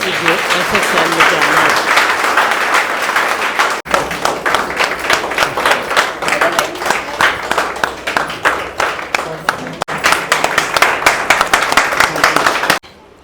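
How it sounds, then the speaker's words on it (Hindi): Loud, dense audience applause and clapping welcoming a guest at a business success event, continuous and close with brief dips, crowd voices mixed in. "ज़बरदस्त तालियां बजाइए"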